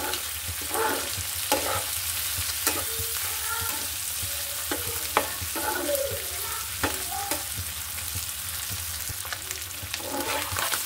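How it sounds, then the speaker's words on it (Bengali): Beef liver bhuna is stir-fried in a pan, a continuous sizzle broken by regular scraping strokes of a spatula against the metal, close and without talk. "এটা ভালোভাবে কষিয়ে তারপরে আমি পানি অ্যাড করব।"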